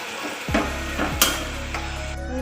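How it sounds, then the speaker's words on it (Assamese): Hot water is poured into a pan of vegetables cooking for a pointed gourd and moong dal dish, giving a loud sizzle and a brief stirring scrape, then a steady simmering hiss with a few clinks, with no talking. "গৰম পানী দিছোঁ মই"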